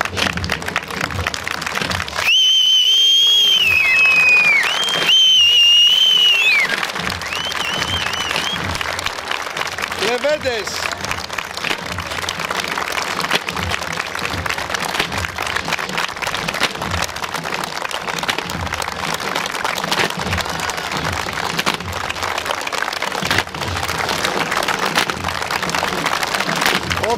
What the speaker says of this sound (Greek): Ο κόσμος τους χειροκροτεί.